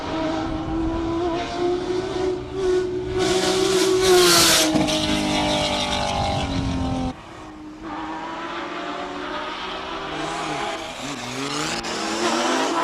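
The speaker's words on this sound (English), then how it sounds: "Right afterwards, we've got the Audi S4. Quattro, turbo, 6-cylinder" Audi S4 Quattro turbo six-cylinder race car at a classic car hill climb in Cape Town, engine revving hard and climbing in pitch through gear changes, a sharp cut, then accelerating again, loud and close with no talk.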